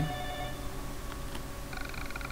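Telephone ringing inside the Ju-On horror video game, a steady electronic ring with high tonal partials running under a low background hum, moderately faint, with no talk over it.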